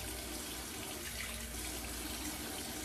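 Hot water pours from a faucet into a bathroom sink during a wet shave, a constant close rushing stream at moderate volume.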